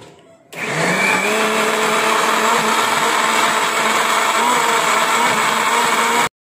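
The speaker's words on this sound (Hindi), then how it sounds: "एक मरतबा पहले हमने इसे ब्लेंड किया था, और एक मरतबा अब हम दोबारा कर रहे हैं" Electric blender grinding bone-in chicken meat for kababs on a second blending pass, a loud steady motor whine starting abruptly after a brief lead-in and running continuously before cutting off sharply.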